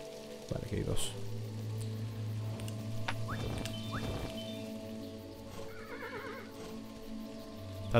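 Tired horse in the video game Kingdom Classic, neighing with rising whinny calls amid steady hoof clopping and ambient game sounds, with someone talking over much of it.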